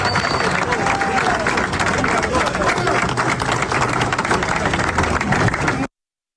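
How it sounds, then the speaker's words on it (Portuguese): Allies applaud enthusiastically at a Liberal Party (PL) dinner as Jair Bolsonaro leaves, a dense, steady wash of crowd clapping and hubbub lasting about six seconds before cutting off abruptly. "Antes de sua saída, Jair Bolsonaro foi aplaudido de forma efusiva pelos aliados."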